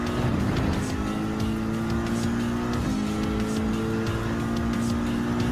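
A Ford Mustang GT '15 muscle car races around a track in Gran Turismo 7, its engine holding a steady, loud drone throughout with only slight shifts in pitch and no talk over it.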